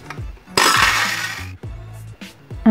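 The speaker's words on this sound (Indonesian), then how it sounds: "Nah, ini saya blender dulu es batunya." Ice cubes crushed in a blender for a budget Milo shaved-ice dessert, a loud, harsh grinding roar of about a second that then stops, with soft music playing throughout.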